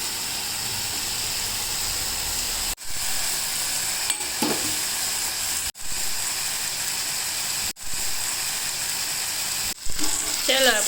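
Okra and potato fry in a pan with a steady, close sizzle, broken by a few brief drops where stirring pauses the hiss, and a faint clink near the end.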